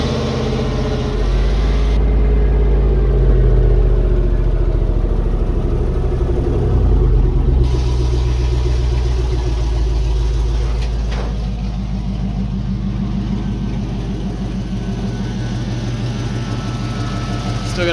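An LS-swapped 1976 Chevrolet K10 pickup running close by, a loud steady idle with a deep exhaust rumble, exhaust leaks and rough patches throughout, no words spoken.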